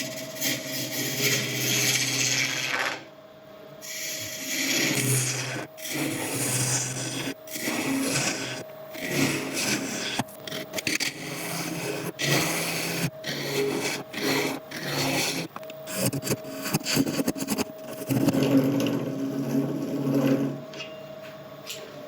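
Boxwood blank spinning on a woodturning lathe while a gouge cuts a tenon, giving a steady rasping, scraping cut with a constant motor hum, broken by brief pauses and tool re-engagements over about twenty seconds, close and fairly loud.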